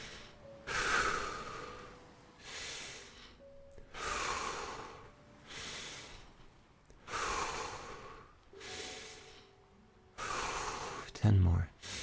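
Deep, slow breaths close to the microphone, four long airy inhale-exhale cycles in an even rhythm, each rising to a loud rush and then fading.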